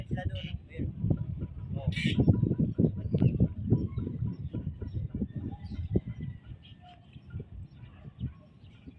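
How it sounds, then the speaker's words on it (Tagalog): A large flock of birds feeds near a dike, giving scattered coos and a few sharp chirps amid a low, busy rumble of activity, with people's voices talking over much of it. "Ang daming ibon. Nanginginain."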